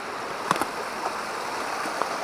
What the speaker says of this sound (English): I'm shooting the same waterfall